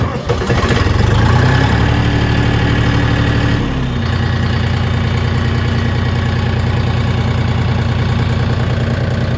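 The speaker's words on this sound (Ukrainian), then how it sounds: "витискаємо щеплення і запускаємо двигун" A DTZ 354U mini tractor's engine cranks and catches with a loud rising roar, then settles into a steady, close, throbbing idle that runs on alone.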